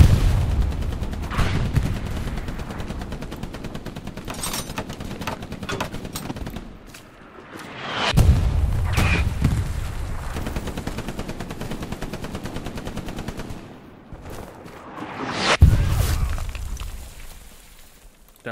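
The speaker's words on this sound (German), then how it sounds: "Da schießt die Arti drauf." Artillery shells and heavy gunfire pound a Hell Let Loose battlefield on the Omaha Beach map, with sustained rattling bursts and two loud booming impacts rising above the clamor, no talking.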